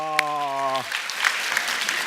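Church congregation applauding after a sustained voiced tone cuts off, a soft rustling patter of many hands continuing steadily at moderate distance.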